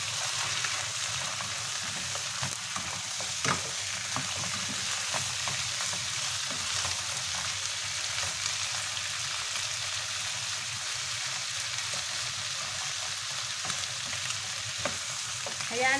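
Chicken drumsticks fry in a pan with a steady, dense sizzle and crackle throughout, broken by occasional scrapes and clicks as they are stirred, with no talking.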